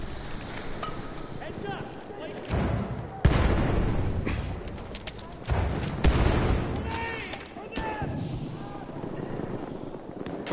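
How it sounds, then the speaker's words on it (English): A grenade detonates in Battlefield 1 multiplayer on PS4, a booming blast amid a chaotic battlefield of other explosions and gunfire, with a player talking over the din. "Lobbing grenade. Watch it."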